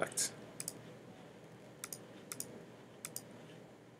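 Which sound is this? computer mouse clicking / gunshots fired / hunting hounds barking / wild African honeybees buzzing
computer mouse clicking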